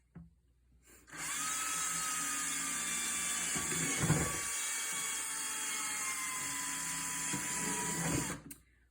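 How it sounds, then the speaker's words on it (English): A power drill whines steadily at high speed for several seconds, with a brief dip partway through as it bites into a plastic jug, then spins down. "we're going to use a drill, and we're going to put several holes in"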